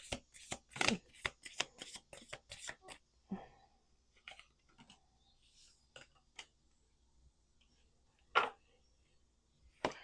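Cards are riffled and tapped in a quick cluster of crisp clicks, then a few scattered snaps and taps, close and moderately loud.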